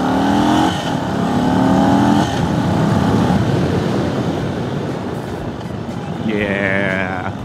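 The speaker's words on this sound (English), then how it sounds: "These Indian pipes don't sound too bad, but I'm used to the Reinhardts on my Chieftain." An Indian motorcycle with stock Indian exhaust pipes rumbles and revs, its engine note rising and falling in steady pulls and ending in a higher rev near the end, heard close and loud with a voice partly under it.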